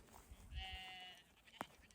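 Sheep in a field, one drawn-out bleat carried by a farm flock resting under a tree, moderately near over quiet outdoor ambience, a short thump near the end.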